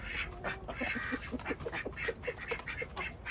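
A Khaki Campbell duck quacks repeatedly in a quick, uneven series of short calls, fairly close, over a faint steady background hiss with no talking.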